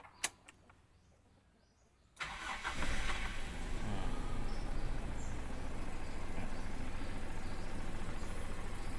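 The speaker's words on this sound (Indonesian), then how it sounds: "Kita coba nyalakan mesinnya ya." A used car's petrol engine cranks at about two seconds after a few faint clicks, catches and settles into a steady, close, moderately loud idle that runs alone to the end.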